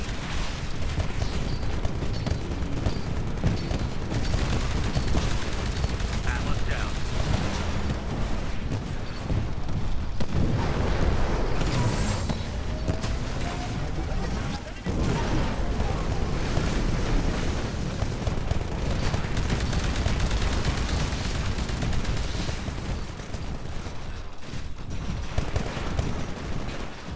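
Smart gun gunfire in Titanfall, rapid, sustained bursts and booming battle noise that continue densely and fairly loud throughout, with no talk.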